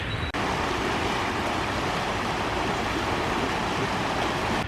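Constant rushing water, a steady broadband wash like a creek flowing close by, with a brief dip near the start and no voices.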